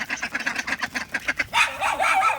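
Ducks quacking close by in a village yard, a quick run of rhythmic nasal calls followed by a longer, wavering call. No speech over them.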